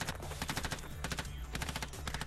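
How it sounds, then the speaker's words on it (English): An insurgent fires a clip at close range and return fire answers, making a dense, rapid burst of overlapping automatic gunshots that continues without a break and sounds somewhat muffled and distant. "An insurgent unloads a clip at close range, triggering return fire."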